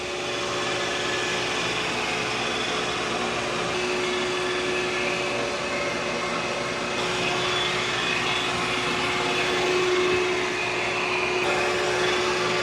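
Roomba Max 705 or Aqua 10 Ultra robot vacuum mop running on Deep Clean, a steady close whirring hum with a constant tonal whine, even and continuous throughout with no talk.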